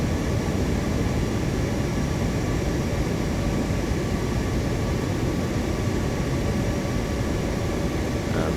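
A jet airliner in Microsoft Flight Simulator 2024 gives a steady, unbroken engine and cabin roar, constant in level from start to finish with no voices.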